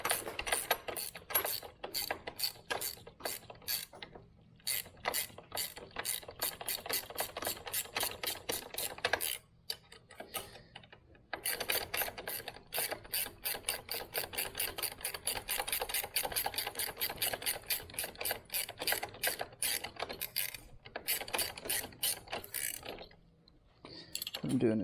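A hand ratchet snugs down bolts on a Hepco&Becker luggage mount for a Triumph Tiger 900 GT Pro, giving long runs of rapid, close clicking broken by short pauses.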